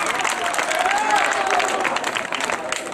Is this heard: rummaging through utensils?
no